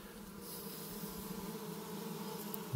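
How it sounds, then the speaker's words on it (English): Bees hum and buzz steadily around an open hive, an Italian-queen colony troubled by small hive beetles. The drone is faint, continuous and close, with no one talking over it. "Bees are festooning down in here."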